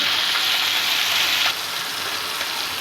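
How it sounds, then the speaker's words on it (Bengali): Fish fries in oil in a pan, giving a bright, steady sizzle close by that drops slightly in level halfway through, with no voices. "আমার মাছগুলো ভাজা হয়ে গেছে। এখন আমি মাছগুলো সব তুলে নিচ্ছি।"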